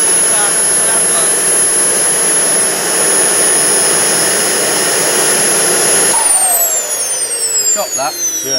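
A jet engine roars loud and close at high thrust during an open-day demonstration, a steady powerful whine that begins to spool down and fall in pitch toward the end.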